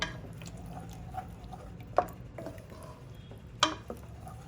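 A spoon stirs cooked rajma gravy in an opened pressure cooker after three whistles, giving soft scraping and a couple of sharp metallic clinks against the pot, close up with no talking.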